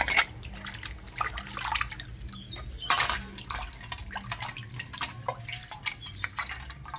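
Fish being washed by hand in water inside a steel pot, with irregular splashes, drips and light metallic knocks close by, coming in short bursts over a quiet background.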